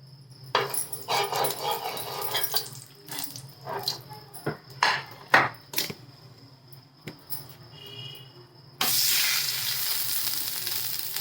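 Sizzling of flatbread frying in ghee on a hot griddle, mixed with scraping and clattering sounds, and a dog barking and whimpering nearby; a loud steady sizzle fills the final seconds.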